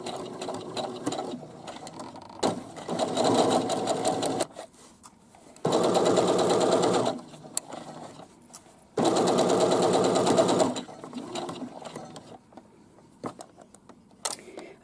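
A sewing machine stitching the center back seam of shorts or pajama pants, up to the top of the fabric, running in loud, steady whirring bursts of a few seconds each, separated by quieter pauses.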